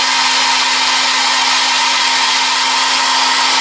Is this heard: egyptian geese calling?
no